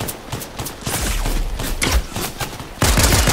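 Rapid bursts of gunfire in a Fortnite cash cup match, dense overlapping shots and crackling fire that swell into a louder volley near the end.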